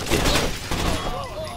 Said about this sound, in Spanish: ¡Ojo con los disparos!